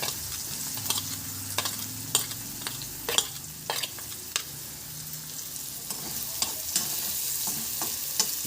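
Green chillies and onion fry in oil in a pan while being stirred for homemade pasta. A soft, steady sizzle runs throughout, with sharp spoon clicks and scrapes recurring at close range.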